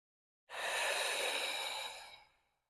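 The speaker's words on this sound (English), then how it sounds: "Deep breath." A single deep breath during yoga practice, a soft airy exhale rising quickly, holding steadily for about a second and a half, then fading out, close and alone.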